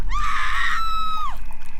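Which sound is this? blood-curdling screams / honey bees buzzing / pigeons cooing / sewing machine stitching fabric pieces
blood-curdling screams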